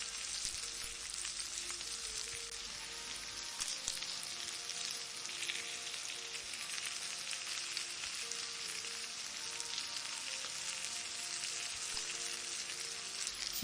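Chicken pieces frying in oil in a pan for egg chicken fried rice, a steady close crackling sizzle with tiny pops running without a break and no voices.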